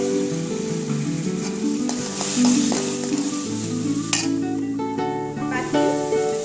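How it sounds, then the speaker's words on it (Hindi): Butter sizzles and spits steadily in a hot pan with finely chopped cabbage, close and fairly loud, with occasional stirring clinks and a sharp tap partway through, and no talking. "अब हम इसमें बटर डाल देंगे।"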